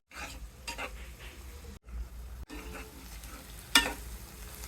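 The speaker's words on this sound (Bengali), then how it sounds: "পেঁয়াজ কুচি লবণ দিয়ে বসিয়ে দিলাম, একটু নরম হয়ে যাবে।" Chopped onions with salt frying in a pan of garlic and ginger paste, a steady soft sizzle with occasional stirring scrapes and one sharper clatter near the end, no talking.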